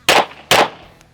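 Two sharp, loud gunshots from a Laugo Alien pistol, about half a second apart, each ringing briefly before fading into a quiet tail, with no talking.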